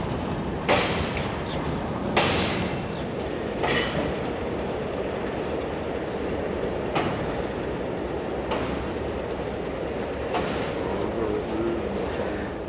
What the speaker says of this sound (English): Turntable, we just saw the train go across.